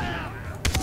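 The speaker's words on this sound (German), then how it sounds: "das Schiff schießt auf mich" A ship firing guns at the player in the Far Cry 3 video game, a rapid burst of three or four loud gunshots at the end, after a stretch of game sound and voices.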